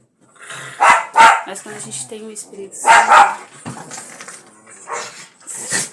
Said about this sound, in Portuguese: os cachorros ficam latindo